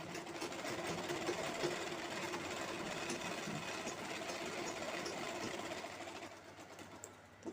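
A sewing machine stitches along the sides of a cloth handbag near a zipper, a quiet, fast, even whirring patter running steadily before it slows and stops near the end, with no talking.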